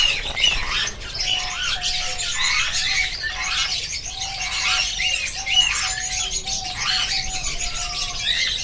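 Breeding canaries and finches in an aviary call continuously, with repeated bright chirps and whistled notes overlapping at moderate distance against a soft background hum.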